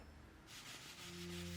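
Gentle sanding of a lacquer painting layer, a soft steady rubbing scrape that starts after a brief pause and continues quietly with no talk.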